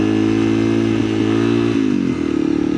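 A dirt bike runs through sand, its engine a loud, close, steady drone whose pitch dips and rises slightly as the throttle shifts.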